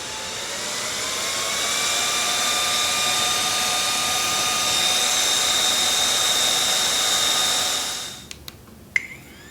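A JISULIFE Handheld Fan PRO1 spinning at its top speed setting gives a steady, high-pitched whirring whine with a strong airy rush that holds for about eight seconds, then cuts out, followed by a few faint clicks.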